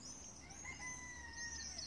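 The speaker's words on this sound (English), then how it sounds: "the roosters crowing." Faint roosters crowing in the distance, drawn-out calls over a quiet outdoor morning hum with a few other birds, heard from a balcony in Châteaudun, France.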